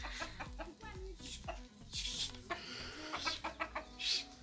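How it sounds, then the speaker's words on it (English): Hens and roosters cluck and call around a farmyard, with irregular bursts of clucking near and far and a sharp crowing note at the end. "hens and roosters here."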